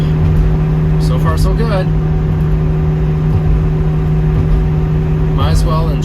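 A car driving across a long bridge on a car show weekend, with a steady engine and road drone throughout at close range, while a voice talks briefly over it.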